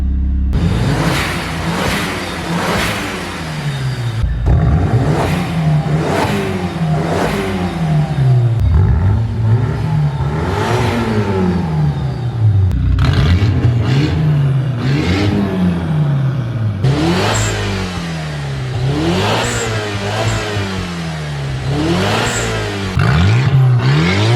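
A Mitsubishi Eclipse GSX engine with deleted muffler and resonator and a Megan Racing downpipe revs hard again and again up close, each loud rise falling back before the next, with a raspy, throaty exhaust note throughout.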